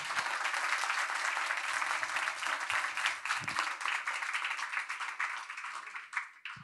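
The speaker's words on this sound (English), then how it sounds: "If everybody could join me in giving the panelists a round of applause." Audience applause for the panelists at the close of a finance industry panel, a continuous crowd of clapping that holds steady, then tapers with a few scattered final claps.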